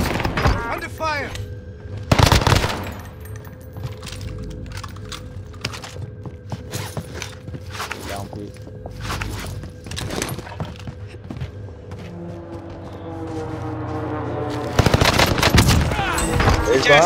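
Rapid automatic gunfire in a military shooter video game, bursts of close shots with heavy loud volleys near the start and end, lighter scattered shots and mechanical clatter between, with occasional voices.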